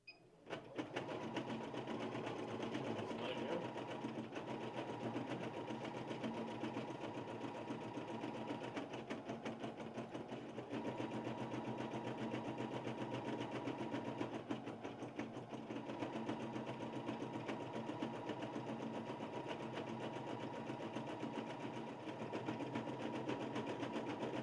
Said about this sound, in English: once it loads, my machine will be ready to stitch